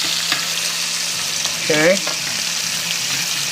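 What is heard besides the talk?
potato medallions frying in hot oil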